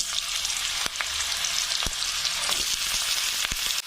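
Steady, loud sizzling of sliced banana stem frying in hot oil in a wok, with a few sharp scraping clicks of stirring in the pan.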